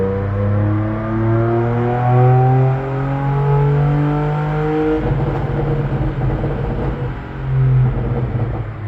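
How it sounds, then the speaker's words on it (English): A truck engine fitted with long tube headers revs hard on a dyno, a loud, steady, close drone whose pitch climbs and holds, then turns rougher and rumbling toward the end, with no talking. "I'll be throwing in a clip of the truck on the dyno and show you how much the truck is making."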